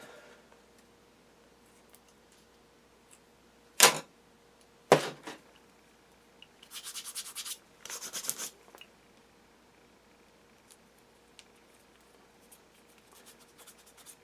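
Two sharp scissor snips ring out close by, followed by a couple of short bursts of tape rustling and tearing in an otherwise quiet room.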